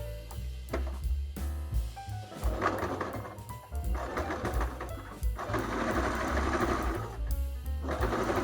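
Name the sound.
sewing machine stitching zigzag overlock seam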